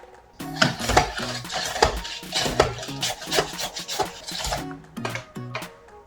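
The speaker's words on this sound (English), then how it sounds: "Today I'm going to use the slicer." Carrots are pushed across a handheld kitchen slicer for cabbage kimbap, making a run of rasping, scraping strokes in a steady back-and-forth rhythm, close and fairly loud, with brief pauses between passes and no talking.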